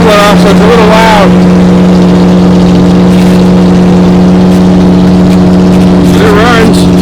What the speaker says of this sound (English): I cut the muffler off, so it's a little loud.